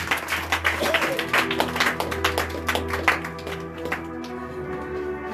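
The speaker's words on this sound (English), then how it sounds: "And clap hands for God." A church congregation claps hands during a Sunday service, rapid irregular claps filling the space under music and voices.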